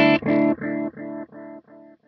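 An Empress Echo System dual delay pedal with only its analog delay running: a bright guitar chord repeats about six times at quarter-second intervals, each echo quieter and darker than the last.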